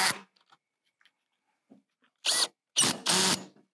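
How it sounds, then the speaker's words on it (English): A power drill drives screws into a polycarbonate greenhouse cap over 16mm five-wall polycarbonate glazing, with the clutch set around 11 to 12. It gives three short, close bursts, the last one longest, separated by near silence. "So with my drill, I set my clutch to around 11 or 12."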